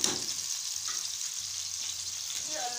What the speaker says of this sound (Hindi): प्याज का मैं तड़का लगा दूंगी, थोड़ा जीरा डाल दूंगी।